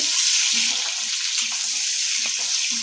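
Potatoes fry in oil over a high flame with a dense, even sizzle throughout, close and loud, with faint clinks of stirring now and then.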